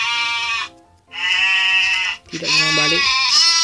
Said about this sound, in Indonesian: Oh, ada kambing.